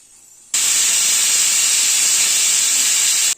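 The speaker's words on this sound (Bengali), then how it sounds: "দুটো সিটি আসা অবধি অপেক্ষা করব।" Pressure cooker holding chana dal, shrimp, spices and a green chilli gives a sudden loud, steady hiss of escaping steam, a high whistle-like rush that begins abruptly and holds for about three seconds before cutting off.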